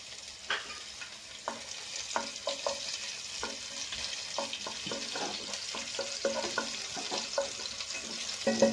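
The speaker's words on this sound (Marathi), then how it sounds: "लसूण छान आपल्याला तळून घ्यायचं आहे थोडासा" Garlic frying in a pan for pasta, a soft continuous sizzle with scattered stirring scrapes and light clinks, fairly quiet and close without talk.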